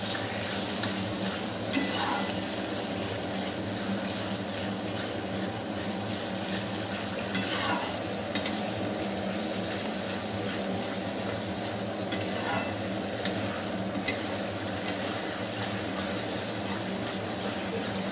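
Spice paste with a spoonful of packaged yogurt sautéing in a pan for a cabbage kofta curry, a steady soft sizzle throughout with a few brief clinks of a spoon stirring against the pan.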